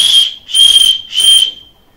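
Homemade whistle made from an apricot kernel gives three shrill, high-pitched blasts in quick succession, loud and close, with the last one trailing off.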